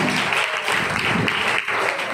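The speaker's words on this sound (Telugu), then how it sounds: "అందరూ ప్రభు నామ మహిమ కొరకై చప్పట్లు కొడుతూ దేవుని నామానికి మహిమ చెల్లిద్దాం" A church congregation at a Sunday service at Calvary Prayer Church applauds together in a steady, dense wash of clapping that holds without a break from start to finish.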